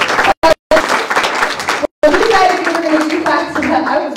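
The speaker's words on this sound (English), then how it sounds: "please give a big round of applause." An audience at a presentation breaks into sustained applause, many hands clapping loudly and continuously at close range, with a few brief voices mixed in.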